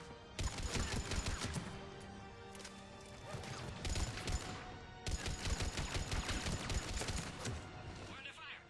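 Sustained bursts of rapid gunfire rattle through a Mass Effect 3 battle, dense and loud, with brief pauses between volleys and fighting noise throughout.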